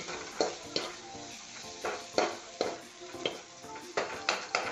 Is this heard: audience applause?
no